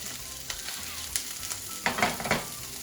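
Sausage frying in a pan gives a steady low sizzle, with sharper crackles and spatters clustering near the end, and no one talking.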